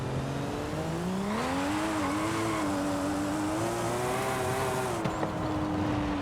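A Formula Drift car engine in Forza Horizon 5 drones steadily and loudly, its pitch rising and wavering through a long pull with faint tire noise, with no voices.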